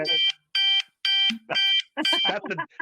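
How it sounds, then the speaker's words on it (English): An electronic alarm beeping in a repeated pulsing pattern, loud and close, with a voice breaking in partway through. "that's the Dave shut up alarm"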